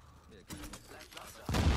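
Scar-L assault rifle fitted with a laser pointer, fired in the video game The Division: a couple of sharp shot bursts, the later one louder, heard alongside talking.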